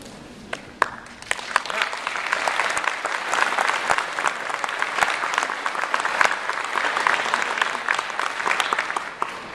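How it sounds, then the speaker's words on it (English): Conference audience at a user conference awards session breaks into sustained applause, many hands clapping densely for nearly ten seconds, steady and fairly loud with a quiet start. "I never got a clap as quickly as that before."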